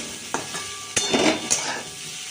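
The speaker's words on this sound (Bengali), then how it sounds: "আর এদিকে কপিটা ভাজা হচ্ছে" Cauliflower frying in a pan in a home kitchen: a steady close sizzle broken by a few sharp stirring scrapes and bursts, with no voices.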